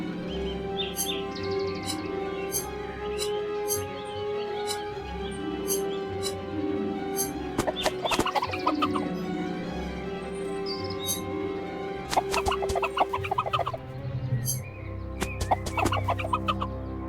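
Chicken clucking in the video game Lost Lands 10, a fairly steady run of short fowl clucks and chirps over a low game-music bed, with a few louder bursts.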